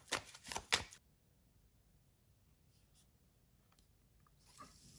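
Tarot cards shuffled in a quick burst of close, crisp riffling that stops within a second, followed by near silence broken by a few faint taps and a soft card rustle at the end.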